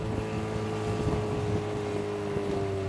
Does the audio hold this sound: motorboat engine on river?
yes